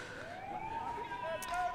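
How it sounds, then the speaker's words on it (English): A rising electronic siren starts an open men's touch rugby round-robin game at the Whakatāne January Touch Tournament. It sounds as a single sustained, slowly climbing tone over steady crowd and outdoor background. "Siren sounds, Tiv, we're underway here."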